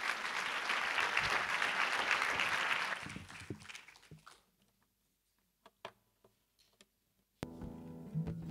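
An audience at a festival opening ceremony applauds a musician, dense loud clapping that fades out after about three seconds, followed by scattered soft ticks and taps, then a new tonal sound starting near the end.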